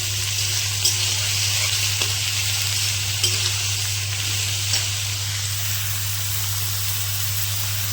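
Chopped raw onions fry in a pan for a potato curry (aloo dum), giving a steady, close, even sizzle with a few small pops and no talking.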